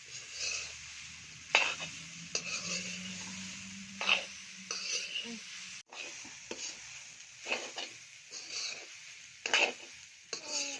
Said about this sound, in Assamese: অকণমান সেমেকা ভাৱটো যোৱালৈকে এইখিনি অকণমান লৰাই পেলাই এনেকৈ ভাজি ল'ম নেকি